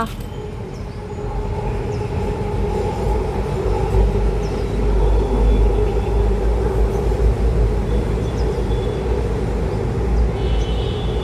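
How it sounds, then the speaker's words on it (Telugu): A train rolls past with a loud, steady low rumble and rattling wheels that build and hold for several seconds, no talking. "ఇదిగో ఇదిగో ట్రైన్ వచ్చేసిందబ్బా"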